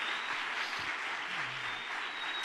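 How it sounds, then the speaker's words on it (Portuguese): Congregation applause for pastors at a Brazilian church service, a sustained wash of many hands clapping, fairly distant and even, with a faint low murmur beneath. "Vamos dar uma salva de palmas a eles."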